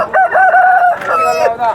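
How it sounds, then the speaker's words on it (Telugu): A rooster at a weekly Thursday chicken market in Galiveedu crows loudly and close by, one drawn-out call in two harmonic phrases. "కోడి పుంజి మాత్రం చాలా బాగుంది"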